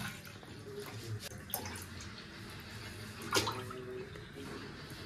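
Milk bubbling at a full boil in a kitchen pot for making chhena, with soft continuous simmering, scattered pops and small splashes, close and moderately quiet.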